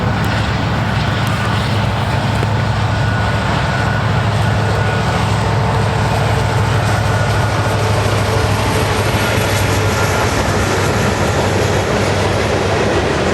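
Penn Central heritage unit freight train rolling past near Blandon, Pennsylvania, a close, loud, continuous rumble of wheels and engine droning steadily throughout with no break.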